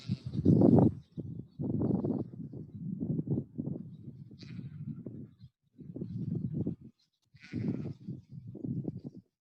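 Goats bleating repeatedly in a farm setting, a string of close, fairly loud calls with short pauses between them and no talk over them.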